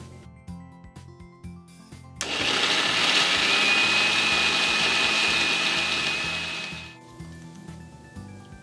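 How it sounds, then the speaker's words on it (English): Blender grinding spices, ginger and red wine vinegar into a paste for Goan sorpotel, a loud steady whirring motor running for about five seconds before it cuts off, with soft music before and after. "To bring all the spices together and help it grind into a smooth paste, we're going to add 3/4 cup of red wine vinegar"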